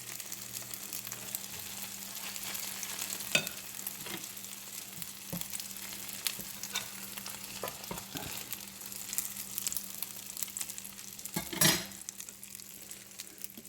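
Meatless patties with sage fry in a pan, giving a steady soft sizzle for several seconds, broken by light clicks and scrapes of a fork turning them.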